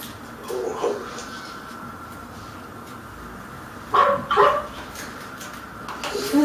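A dog barks in a few short bursts: one yelp early on, a louder double bark midway, and another at the end, separated by quiet, fairly close indoor background.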